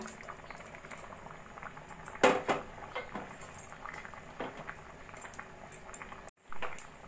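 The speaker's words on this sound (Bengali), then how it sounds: "জল দিয়ে জলটা ফুটে উঠেছে" A small amount of water boiling in a pressure cooker, a constant close bubbling simmer with a few louder pops and a brief clatter.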